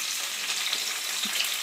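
Bell peppers fry in olive oil in a pan, a dense, loud, continuous sizzle with small crackles and pops and no voices.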